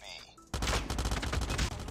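Rapid automatic gunfire in COD Mobile starts abruptly after a brief quiet lead-in, a dense close burst of shots rattling steadily to the end.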